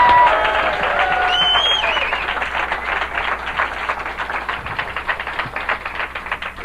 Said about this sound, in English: Let's get a nice round of applause